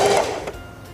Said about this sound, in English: Lower the presser foot and sew a few stitches for the bottom bar tack